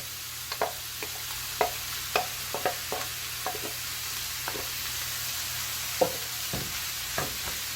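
Rice stir-fried with egg in a hot pan for Chinese egg fried rice: irregular scraping and stirring strokes over a steady background sizzle, close and fairly loud, with no voices.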